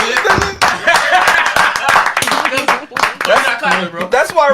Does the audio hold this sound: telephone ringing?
no